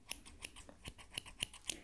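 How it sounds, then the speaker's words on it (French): Small hairdressing scissors snip the tips of hair in a quiet series of about eight crisp, close clicks at an even rhythm, with no talking. "on va commencer par couper les pointes avec mes petits ciseaux"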